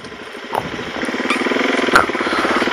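A motorcycle with an aftermarket exhaust pipe idles nearby, its engine putting out a steady, throbbing low rumble that grows slightly louder with small revving pulses.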